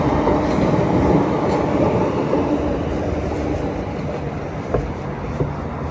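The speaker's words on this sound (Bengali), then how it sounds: "ট্রেন যাচ্ছে।" Train passing along a railway in England, a loud, continuous rumble that holds steady and slowly eases, with a couple of faint knocks toward the end and no voices.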